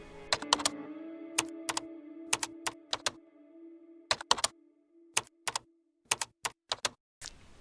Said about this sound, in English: Typing another question.